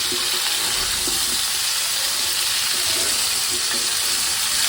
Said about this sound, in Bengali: সবজিটা আর আলুটা ভেজে নিচ্ছি রান্নার জন্য